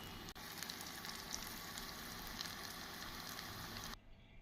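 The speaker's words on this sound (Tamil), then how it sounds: "நாம் அனைத்து உருண்டைகளையும் மிதமான தீயில் வைத்து பொரித்து எடுத்து விடலாம்." Bread and potato balls deep frying in hot oil over a medium flame give a steady, dense sizzle with fine crackle, loud and close, holding unbroken for about four seconds before cutting off abruptly.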